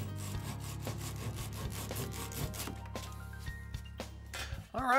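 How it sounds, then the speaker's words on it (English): Handsaw cutting excess wooden dowels off a garden bench joint, a run of close rhythmic rasping strokes that slows and ends with a final scrape. "Cut off any excess with a saw."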